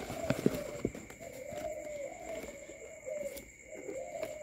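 Pigeons coo steadily at a farm where chicks are kept, a low rolling warble repeating for several seconds, with a few clicks and clatters near the start and a thin steady hum behind.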